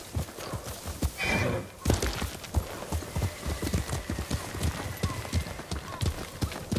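Horse hooves clip-clop in a steady trot in the Ghost of Tsushima video game. A loud neigh rings out early, and the rapid hoofbeats continue close by.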